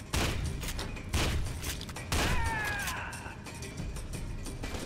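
Gunfire in the video game F.E.A.R. 2, with three heavy booming shots spaced about a second apart and ringing tails, plus faint game effects between them and no talk.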